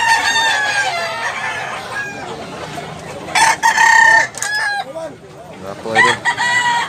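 A Tasmanian Hini gamefowl rooster at a market in Tabunok, Cebu crows loudly and close several times, its calls standing out over background chatter and other fowl.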